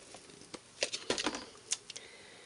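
Rubber scissors trimming around a rubber stamp sheet, heard as a few close, irregular snips and crisp clicks in quick succession with no talk.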